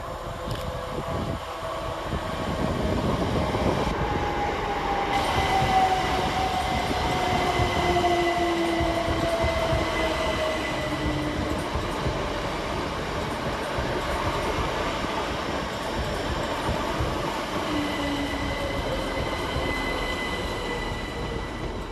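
Class 387 Great Western Railway electric trains roll into Twyford station, a sustained rumble of wheels on track with thin squeals rising and fading over about twenty seconds.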